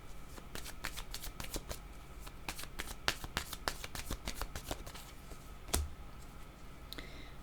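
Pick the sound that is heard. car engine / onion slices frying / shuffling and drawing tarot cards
shuffling and drawing tarot cards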